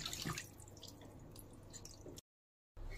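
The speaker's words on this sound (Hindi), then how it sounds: "ये रहा चिकन, अब मैं इसे अच्छी तरह से धो के साफ कर ले रही हूँ।" Raw chicken being washed under water at a kitchen sink, with steady dripping and splashing that stops briefly near the end before resuming.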